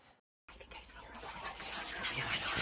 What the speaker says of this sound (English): At the door, she heard whispering.